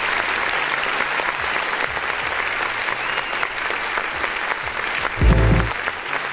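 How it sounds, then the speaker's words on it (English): Steady audience clapping for a live indie music review show, continuous and fairly close, with a brief louder thump near the end. "Let's go ahead and clap it"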